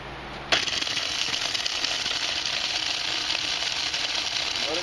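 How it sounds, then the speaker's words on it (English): A grinder starts abruptly and runs steadily, grinding a batch of dried smoked chipotle peppers into powder with a loud, dense, rattling whir that continues without pause. "So I just load some in here and we grind them up"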